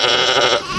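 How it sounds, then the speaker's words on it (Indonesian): A single loud, close sheep bleat, a short wavering cry that fades abruptly after under a second. "Ini namanya domba."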